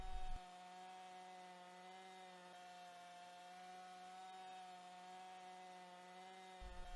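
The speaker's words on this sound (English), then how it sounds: "a Hikoki C9 circular saw was used to make the initial deep, straight shoulder cuts in the dense green oak" A Hikoki C9 circular saw cutting shoulder cuts into dense green oak tenons, a steady, loud sustained whine with a strong tonal hum, and a short burst of noise at start and end.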